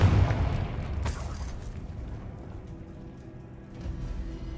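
A Confringo fire spell goes off in Hogwarts Legacy: a loud, deep boom opens, a sharp burst lands about a second later, and a rumbling roar slowly fades away.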